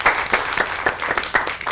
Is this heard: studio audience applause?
yes